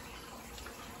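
Aquarium pump pushing water through a tank with white sand at 82 degrees, giving a steady, even wash of flowing water with no break over a short stretch.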